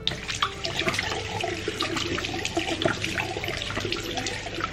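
Running water splashes steadily as it rinses loose face powder off a face, a continuous close wash of spattering and trickling with no break and no talking.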